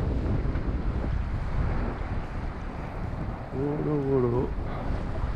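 Steady wind buffets the microphone aboard a sailboat on a family summer cruise at sea, a continuous broadband rush with boat and water noise beneath, while someone speaks briefly near the end.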